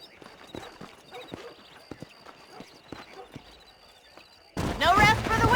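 Horses trot across open ground in Red Dead Redemption, a quiet, irregular clip-clop of hooves, then a sudden loud burst of voice and game noise near the end.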